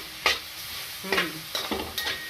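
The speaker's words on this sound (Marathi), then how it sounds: "आता हे सगळं आपल्याला छानपैकी फ्राय करून घ्यायचं आहे" Mixed vegetables with Kitchen King masala frying in a pan, with a spoon stirring in a few distinct scraping strokes over a steady close sizzle, no talking.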